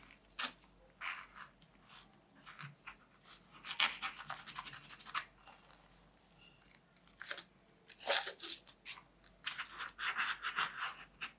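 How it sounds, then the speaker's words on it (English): Top layer of craft paper peeled away from tape on a spine piece, heard as quiet, close crinkly tearing and rustling in irregular bursts with pauses between, no talking. "pull it off, and the entire top layer just peel away."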